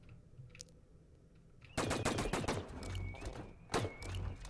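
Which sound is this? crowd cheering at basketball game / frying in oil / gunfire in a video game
gunfire in a video game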